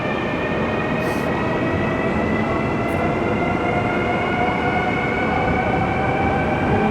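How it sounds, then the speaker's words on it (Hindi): Interior rumble of a high-speed bullet train running from Beijing to Hong Kong, a steady dense roar with faint tonal whine throughout, continuous and fairly loud with no speech. "एनीवेज चलो अभी ये बुलेट ट्रेन का मज़ा लेते हैं।"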